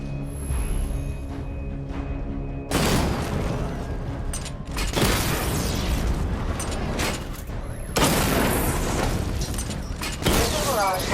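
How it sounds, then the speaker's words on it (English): Missile barrage blasts in Batman Arkham Knight, a series of heavy booming explosions and rumbling bursts in waves over a constant game soundscape, loud and close. "Destroy targets to charge up weapon energy and activate missile barrage"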